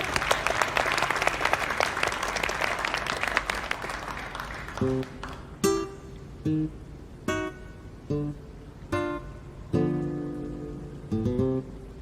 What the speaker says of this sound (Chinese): 掌声！